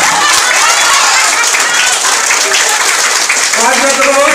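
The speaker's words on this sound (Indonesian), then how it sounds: "Tepuk tangannya yang keras" Loud, sustained applause from a large audience at an Indonesian village program event, dense close clapping filling the room, with voices mixed in toward the end.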